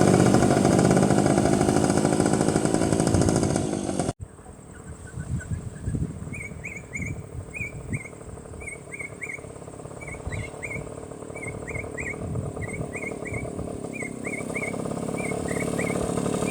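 A BSA Bantam motorcycle starts loud and close, then fades as it rides off down a driveway, leaving a faint engine drone under repeated bird chirps.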